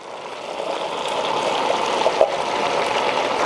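Steady running water pours from a tap while canned chickpeas are drained and rinsed in a kitchen, a continuous close gushing stream with no speech.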